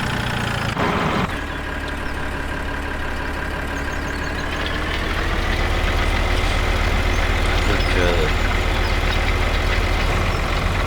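A tractor engine runs steadily close by at an even idle-like drone, loud and continuous with a brief clunk near the start and no voices.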